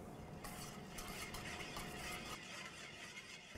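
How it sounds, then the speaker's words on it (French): Olive oil being stirred with a pinch of salt and pepper into a marinade for a Catalan plancha recipe, a soft, steady scraping and swishing close by, low in level throughout. "et on mélange."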